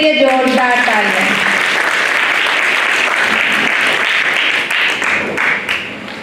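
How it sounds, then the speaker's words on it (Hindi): Loud, dense applause for two teams at a group activity session, sustained throughout and tapering slightly at the end, with a voice heard briefly at the start. "तो एक बार इनके लिए जोरदार तालियां।"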